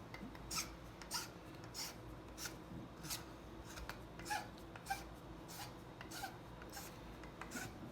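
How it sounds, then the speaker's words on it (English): A hand file rasps along the cut edge of a sprinkler pipe to bevel it, giving repeated short scraping strokes at an irregular rhythm, close and fairly quiet against a low background hum. "I just bevel this like this with the file"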